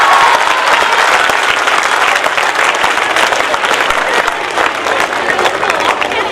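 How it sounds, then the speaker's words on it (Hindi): A school audience at MLP Group of Schools' Republic Day speech breaks into loud, dense applause. The crowd's clapping holds strong and continuous for about six seconds. "जहां बरस रही है आपकी जोरदार तालियां"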